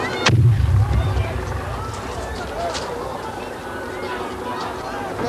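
Grenade blasts during a 1988 gun and grenade attack at Milltown Cemetery in Belfast: a loud, low explosive boom early on, followed by a rumbling crowd din and scattered shouting that persists throughout.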